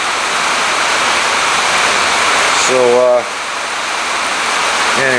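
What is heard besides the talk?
rain falling outside in Oregon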